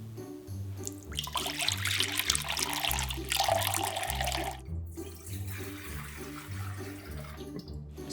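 Tap water pours steadily into a container for bread dough, a continuous splashing rush with a brief pause midway, over soft background music with a regular bass line.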